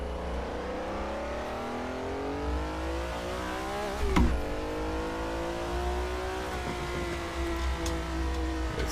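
Ferrari 330 P4 race car in the Assetto Corsa racing game, its engine droning steadily through the gears, with rising pitch, a sharp shift or lift-off blip near the middle, then climbing revs again, close and continuous.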